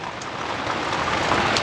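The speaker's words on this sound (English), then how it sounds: "it's been raining all day" Steady rain patters down at a caravan park in Broome, a dense even hiss of drops falling onto surfaces nearby, with no voices heard.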